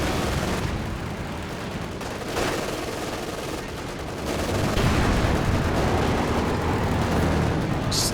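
Werfer rocket artillery and machine-gun fire from a Company of Heroes 2 battle, a dense, continuous barrage of bursts and booms that thickens midway, loud and close with no voices.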